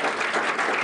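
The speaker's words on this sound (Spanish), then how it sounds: "Un aplauso, por favor" Audience applause at the Rio Jazz Fest 2010, a dense, steady wash of many hands clapping at once, close and loud, filling the whole short burst without a break.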